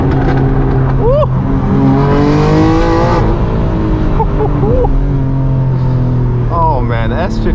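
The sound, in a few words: straight piped BMW M4 G82 S58 engine accelerating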